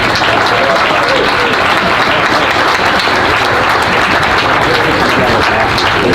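Loud, sustained applause from an audience at a school homecoming hall of fame induction, dense clapping that fills the hall from start to finish with no pause.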